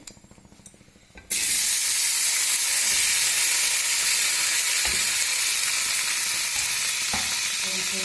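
Three chopped tomatoes drop into hot oil in a pan while ridge gourd peel chutney is being made. After a quiet second they hiss into a loud, steady sizzle with occasional faint spatula taps.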